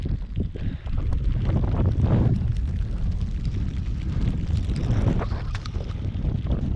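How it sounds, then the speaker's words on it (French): Gusty wind buffets a microphone on a mountain trail as rain falls, a loud, rumbling roar that surges and eases in waves throughout. "La pluie et le vent se sont de nouveau levés."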